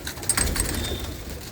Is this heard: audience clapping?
no